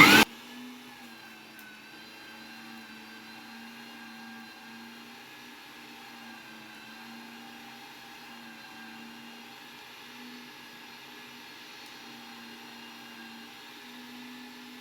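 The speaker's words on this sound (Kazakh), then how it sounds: "Туралған, дайын болған еттерімізді ет тартқыштан өткізіп аламыз." An electric meat grinder pushing cooked, chopped meat through, a steady whining motor hum that runs evenly for the whole stretch after a brief sharp clatter at the start, with no talking.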